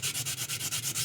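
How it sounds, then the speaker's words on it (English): A Gunpla Sazabi model part is sanded by hand with 800 grit sandpaper, close, rhythmic back-and-forth scratchy strokes repeating about nine times in quick succession. "start sanding. Now this is going to take a very long time, and this is 800 grit"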